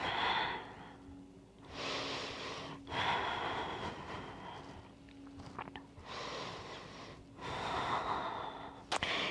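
Slow, deep breaths during a yoga session, long audible inhales and exhales alternating in an even rhythm, close and breathy with a faint background hum.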